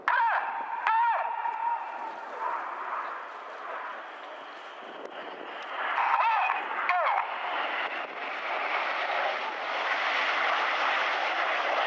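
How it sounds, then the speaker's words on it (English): Red Arrows jets flying the rollback manoeuvre at an air show, a sustained distant jet-engine roar that rises and falls with swooshing passes, with wind buffeting the microphone and a commentator's voice over it. "The inside pilots pitch up to roll to the outside as they fly the rollbacks."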